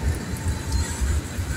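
A train rolling along railroad tracks gives a steady, low rumbling drone that swells and eases in a loose rhythm, heavy and close, with no voices over it.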